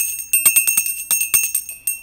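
A notification bell rings in a quick, bright run of about a dozen small metallic dings. The dings come in an uneven rhythm, close and clear, with no talking.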